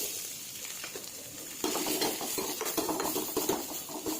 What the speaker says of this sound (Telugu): ఆనియన్స్ వేయాలి